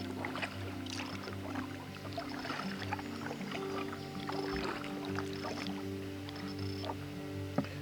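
Kayak drifting through small class 1 river rapids, with a steady, moderately loud wash of flowing water all around and faint splashes and knocks from the boat, no talking.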